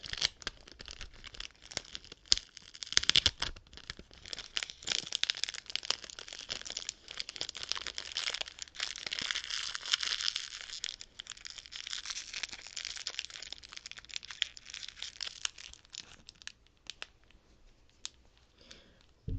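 Tape being torn and crinkled up close, a dense run of crackly tearing and crumpling with scattered sharp clicks, steady and intimate throughout with no voice.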